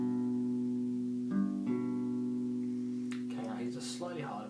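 Two notes on a six-string guitar in standard tuning sound together, plucked twice and left ringing, before a person starts talking over the fading tone.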